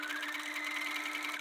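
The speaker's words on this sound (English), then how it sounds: "So we're going to sew it together." A sewing machine stitches a seam in knit fabric with a steady, rapid mechanical whir and pulsing needle rhythm, close and continuous before stopping at the end.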